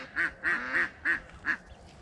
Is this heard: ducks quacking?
yes